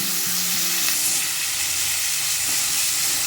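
Two tomatoes sauté in hot oil in a pan for sambar, a dense continuous sizzle and hiss with faint stirring, steady and close throughout with no talking.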